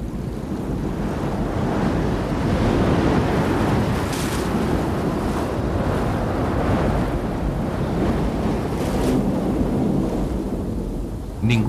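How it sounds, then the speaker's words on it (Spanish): Torrential monsoon rain whipped by furious wind over the Sonoran Desert makes a dense, loud, continuous roar with gusting surges and no voices. "Primero se producen lluvias torrenciales que son agitadas por un viento furioso."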